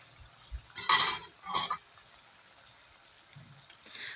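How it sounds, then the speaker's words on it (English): Sausages frying in a pan, a soft sizzle with two bursts of louder hissing and scraping as they are turned, then quieter crackle and a faint clink near the end, no talk. "you have to keep turning your sausages so that they don't just cook on one side"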